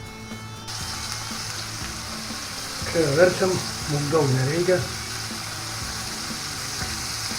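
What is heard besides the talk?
chicken frying in a pan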